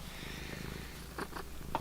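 A plump house cat purrs close by in a room, a steady low rumble running throughout, with a few brief brighter rustles toward the end.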